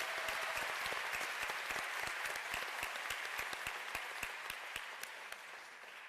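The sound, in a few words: applause for a graduation speaker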